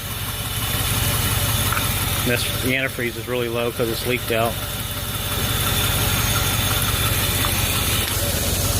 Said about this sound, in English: listen to the engine run there